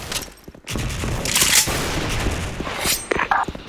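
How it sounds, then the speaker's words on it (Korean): Gunfire and explosive bursts from the online shooter game Special Force fill the clip, a dense loud barrage with a heavy boom near the middle and sharp cracks toward the end. "전방 수류탄."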